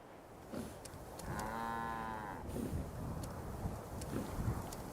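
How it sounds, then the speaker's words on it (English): A cow in the video game Genshin Impact gives one long, drawn-out moo, mid-distance and clear, over a breezy outdoor ambience with a few faint clicks, and no voices. "He has a cow named Charlie the Moo"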